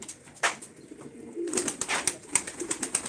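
Pigeons coo nearby in soft, repeated low calls, with light rustling and scattered chirps from birds around them.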